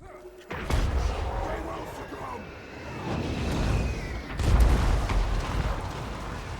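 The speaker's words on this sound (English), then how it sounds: "So many rockets." Rockets firing in a Warhammer battle video game between Chaos and Empire armies, heard as booming launches and rushing whooshes that swell and layer over a rumbling battle din, loud and continuous.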